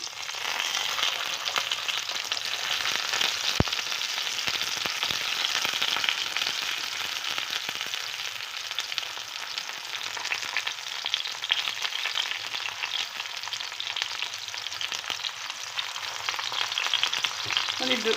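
Eggplant sizzles and crackles steadily in hot oil, a continuous dense frying hiss with a few sharper pops, no voices.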